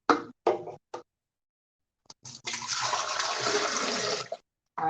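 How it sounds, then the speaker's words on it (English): Coconut water poured into a blender, a steady rushing splash lasting about two seconds after a few brief knocks and clicks, close and fairly loud. "I just poured all that coconut water in there"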